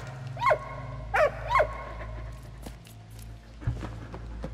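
Dog in the video game Valiant Hearts barking three short sharp times in quick succession, followed by quieter game ambience and a soft thud.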